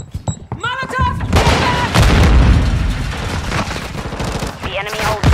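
A Molotov cocktail bursts during video game combat, heavy booming blasts and sustained rapid gunfire filling the scene loudly and close, with shouted voices and chatter over the din.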